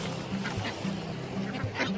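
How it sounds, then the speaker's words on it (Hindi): Ducks quack repeatedly in uneven bursts, fairly close, while being fed puffed rice at night at Mukteshwar Dham in Uttarakhand, with a steady background hum throughout. "मेरे पीछे कितने सारे बत्तख हैं और इनको ये मुरमुरी खिला रहे हैं"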